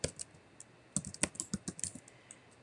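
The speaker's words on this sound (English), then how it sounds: "I will type in my email because I get them a lot." A computer keyboard clacks in a short burst of quick, uneven keystrokes, close and fairly faint, with no talking over it.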